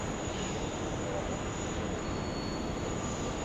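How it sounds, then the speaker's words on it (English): Distant, steady jet roar of an Alliance airliner departing Sydney Airport runway 19, a broad continuous rumble with voices talking over it. "this Alliance is now heading off to Newcastle, departing here on runway 19er."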